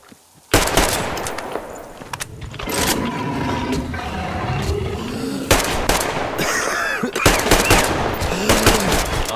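Bursts of automatic gunfire in the post-apocalyptic shooter Metro Exodus, loud rattling volleys repeating across the stretch with short gaps, set over a busy low rumble.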